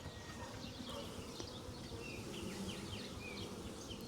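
Massive honeybee swarm buzzing steadily and densely close by, a continuous hum filling the whole stretch with no speech.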